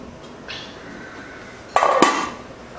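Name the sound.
lid put back on the pot of coconut milk rice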